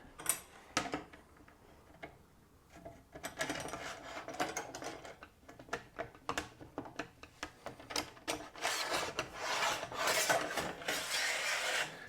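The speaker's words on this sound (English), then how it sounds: "now we can just simply feed the track in here, and really easy to do" An aluminium track rail is fed through a hinge extrusion of a Benchdogs Quad MFT hinge system: rasping metal-on-metal sliding with clicks and ticks, building into longer, louder scraping runs, close up.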